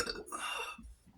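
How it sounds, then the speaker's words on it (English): A single close, throaty belch after eating rumbles low for about a second, then trails off quietly. "That was a food burp, by the way."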